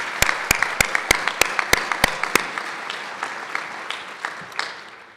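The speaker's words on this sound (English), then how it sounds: "so let's all give him a hand clap." Audience at a breakfast expo event applauds, with sharp, distinct claps, several loud in quick succession early on, then thinning into softer, scattered claps that taper away.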